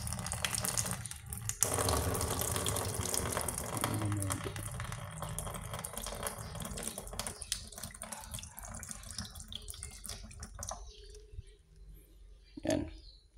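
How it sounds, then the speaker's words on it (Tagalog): Water poured out of a bowl of sliced bitter melon (ampalaya) during cooking prep, a steady splashing and running-water wash that trails off into a few drips and clicks near the end. "Tapon natin yung tubig niya mga idol."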